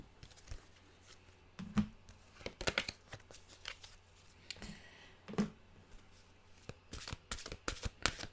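Mantra cards being shuffled by hand in a quiet room, with repeated soft riffling and tapping bursts spread unevenly across the stretch, fairly close and moderately quiet, with no talking.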